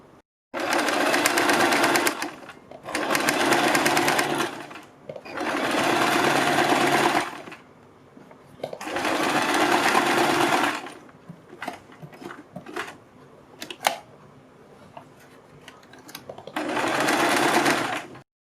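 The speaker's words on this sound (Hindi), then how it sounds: "इस पट्टी के ऊपर यहाँ पर हम सिलाई लगाएंगे पूरी पट्टी के ऊपर" A sewing machine stitches along a net strip on a kurti neckline in five bursts of fast whirring, each a couple of seconds long, separated by quiet gaps with small clicks and handling noises.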